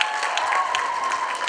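An audience claps steadily to encourage dancers at a youth summit, a brief burst of dense, fairly loud applause from a crowd.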